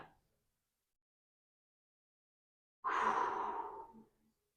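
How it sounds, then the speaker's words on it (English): A single slow, deep exhale during a gentle yoga session, breathy and close, following a long near-silent pause with no talking. "all we're doing right now is breathing."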